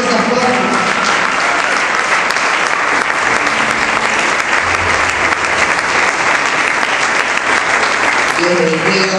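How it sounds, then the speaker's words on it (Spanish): A church congregation applauds to welcome a pastor, a loud sustained wash of clapping from a large crowd filling the room for the whole stretch, with music faintly underneath. "Lo recibimos con un fuerte aplauso al Señor"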